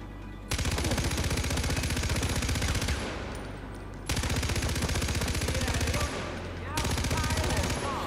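Bursts of automatic gunfire in Far Cry 4 as a Heavy enemy is shot, three long rapid volleys of loud, close shots separated by short pauses, with faint speech-like sounds mixed in.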